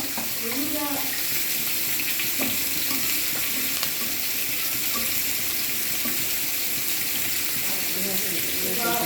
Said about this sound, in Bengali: পেঁয়াজ মরিচটা লাল লাল করে ভেজে নিল